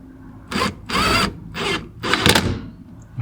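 A power tool drives bolts into a racing steering wheel quick-release hub with a steel part meeting aluminum, sounding as four short, loud whirring bursts close by with brief pauses between them.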